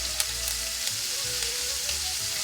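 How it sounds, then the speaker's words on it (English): Steady sizzling from a hot pan as thyme fries with steak in olive oil, small crackles and pops scattered throughout, close and fairly quiet. "that's the thyme popping and that's exactly what you want"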